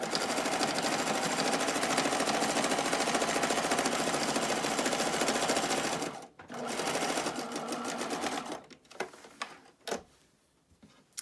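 A sewing machine stitches a wasp nest decoy in a steady, fast whirring run for about six seconds, then stops and restarts in shorter bursts with clicks and handling noises.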